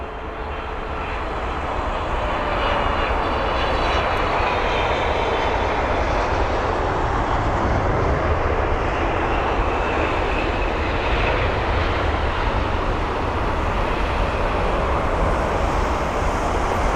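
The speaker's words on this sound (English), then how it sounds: "Here's the Singapore Airlines 777." A Singapore Airlines Boeing 777 arriving to land at London Heathrow at sunset gives a steady, loud jet roar that swells gently and holds for the whole stretch, with no voices over it.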